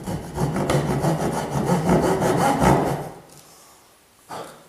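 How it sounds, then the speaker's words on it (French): A back saw cuts through wood for a furniture joint in quick rhythmic rasping strokes, close and loud for about three seconds, then stops with a final scrape. "je vais faire la scie à dos"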